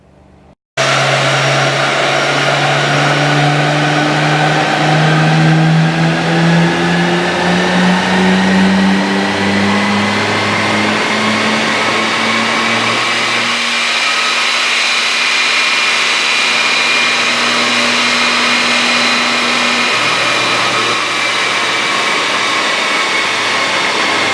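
A Nissan Skyline GT-R engine roars on a dyno run, revving steadily upward for a long loud pull with rising whine, then holding high before easing, close and without talk.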